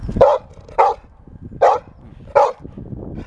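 A dog barks four times in a slow, evenly spaced series, loud and close, with quiet background noise between barks.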